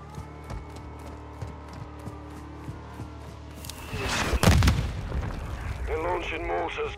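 Mortar fire in Call of Duty Modern Warfare 2: faint rhythmic distant thumps give way to a heavy close blast with rumbling debris. A voice talks over the later part.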